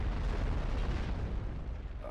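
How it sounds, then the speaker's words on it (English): Mech cannon fire in the Steel Battalion: Heavy Armor video game, a loud, dense boom with a sustained rumbling roar that fills the clip and fades slightly toward the end. "Right trigger shoots your cannon."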